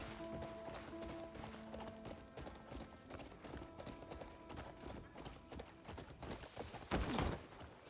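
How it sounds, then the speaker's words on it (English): Horse hooves clip-clopping at speed in the video game Crimson Desert, a steady rapid rhythm of hoof strikes close up, with a brief whinny-like burst near the end. "Just ram the horse into the gate."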